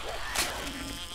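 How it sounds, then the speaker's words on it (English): A bee buzzing in the survival game 7 Days To Die, a steady close insect drone with a wavering pitch that lasts about a second, heard alone without talk. "Oh, hi there, bee."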